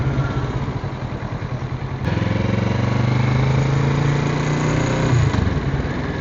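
A motorcycle filtering through city-centre traffic in Liverpool, its engine running loud and close with a steady drone that rises in pitch as it accelerates, then drops away near the end.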